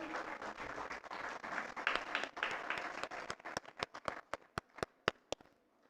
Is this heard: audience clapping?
yes